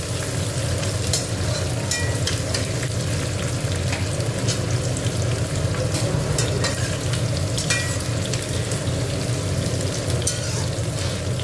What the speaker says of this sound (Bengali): এবার দেখো পেঁয়াজগুলো দিয়ে দিচ্ছি।